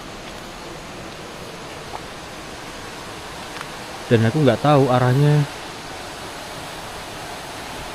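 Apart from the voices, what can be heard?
river flowing along the riverbank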